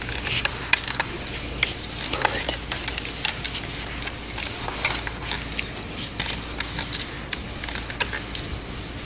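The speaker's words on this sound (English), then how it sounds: "we scrub it with this loose scrubber right here, and we scrub off all the insect droppings here." Steady rough scrubbing of a loose scrubber across a solar panel, removing insect droppings and stuck-on dirt, a close, continuous rubbing hiss with repeated brisk strokes and no voices.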